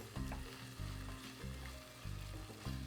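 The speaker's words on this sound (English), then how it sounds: "we're going to saute this for about 3 to 4 minutes over low heat" Kimchi with gochujang and soy sauce sautés over low heat in a pan, a close sizzle that swells and fades in regular bursts as it is stirred, with no voices.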